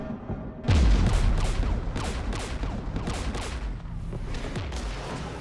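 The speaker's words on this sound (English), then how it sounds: "We're taking fire." Gunfire erupts in Mass Effect 3 Legendary Edition. A heavy boom opens the sequence, followed by a steady run of sharp, overlapping shots and impacts, loud and continuous.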